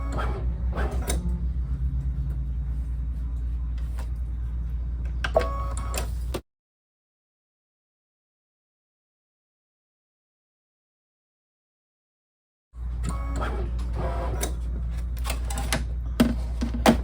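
An embroidery machine stitching a butterfly wings design on a hooped sampler, a rapid close mechanical chatter that stops abruptly into silence and then resumes.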